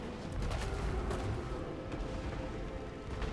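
Gunner units fire in a Total War: Warhammer II battle, a dense, continuous roar of overlapping gunshots and booms with no clear gaps, loud and steady throughout.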